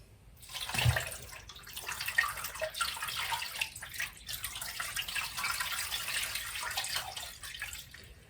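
Water is poured over a 1.5 kg ham collar joint in a slow cooker, a fluctuating splashing gush that runs steadily for several seconds at close range.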